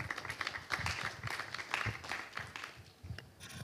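An audience at a round-table conference on climate action claps in a quiet, scattered burst, individual hand claps audible and fairly faint in a large room.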